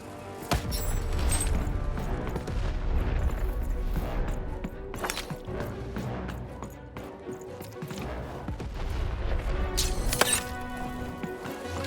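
Cannon fire and heavy impacts from the video game Lost in Random come as loud repeated booms and crashes over a busy game soundtrack, with a few sharp bursts standing out.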